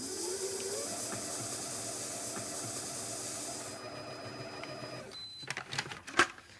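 Food mixer creaming brown sugar with softened butter, a steady whirring motor hum for several seconds that cuts off, followed by a few clattering knocks.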